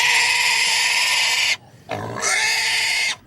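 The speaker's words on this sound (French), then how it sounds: "Les porcs crient toujours beaucoup quand on les touche" Pigs on a farm squealing loudly in two long, shrill bursts separated by a short pause, close and piercing with no talk over them.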